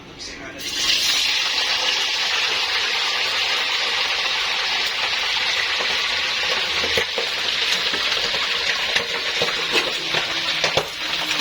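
Oil sizzles and crackles steadily in a pan while frying chicken feet, a loud, continuous frying hiss with occasional pops throughout.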